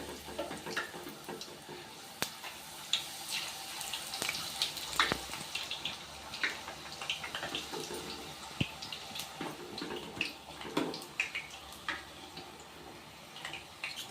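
Wheat flour papad deep frying in hot oil: soft, fizzy sizzling with irregular crackles and pops, fairly quiet and continuous, no voices.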